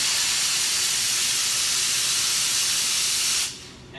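An espresso machine steam wand with a strong, high-pressure boiler hisses loudly and steadily for about three and a half seconds, then is shut off, leaving only a quiet room tone.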